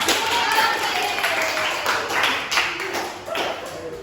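A group of children in a classroom microteaching session clap their hands on command, scattered claps sounding close and loud in several bursts, with a teacher's voice and children's chatter mixed in.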